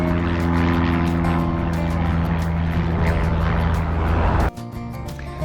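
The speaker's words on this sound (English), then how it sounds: "all those planes you'll have heard flying over the village in this video" A propeller plane drones loudly over the village of Church Fenton, near Leeds East Airport, with a steady engine roar, then the sound cuts off abruptly near the end.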